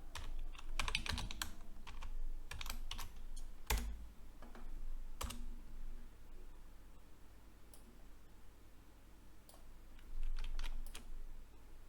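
Bulleted text being typed on a computer keyboard: bursts of quick, close key clicks with short pauses between runs, fairly quiet and without talk.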